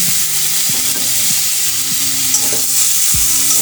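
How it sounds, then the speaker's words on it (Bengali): Boiled taro stolons are stirred into spice paste frying in oil, with a loud continuous sizzle and repeated scraping stirs of the spoon against the pan. "এই কষানো মশলার মধ্যে দিয়ে দেবো সিদ্ধ করে রাখা কচুর লতি"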